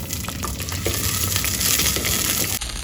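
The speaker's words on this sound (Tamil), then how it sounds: "இது கூட ஒரு பதினஞ்சுலேருந்து இருபது சின்ன வெங்காயம் சேர்த்து இதையும் நல்லா வதக்கிக்கலாம்" Fifteen to twenty small onions sautéing in hot oil for a Tamil adamant creeper (pirandai) curry, a loud continuous sizzle with light stirring, ending abruptly.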